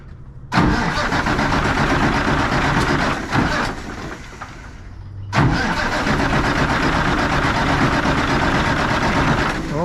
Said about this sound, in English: he's going to turn on a key and he's going to start cranking